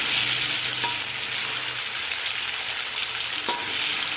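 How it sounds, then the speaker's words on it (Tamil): Tofu fries in hot oil until crisp, giving a steady, bright sizzle close by. A couple of faint clicks from the utensil or pan sound over it. "ஸோ 2 பக்கமும் நல்லா கொஞ்சம் கிறிஸ்பியாக tofu பொரிச்சு எடுத்துக்குவோம்."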